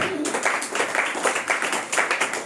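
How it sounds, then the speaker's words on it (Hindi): A congregation at a Hindi-language church service claps loudly together, with distinct rhythmic bursts of hand claps in fairly regular pulses, close and energetic, with no talk over them. "जोर से ताली बजाओ"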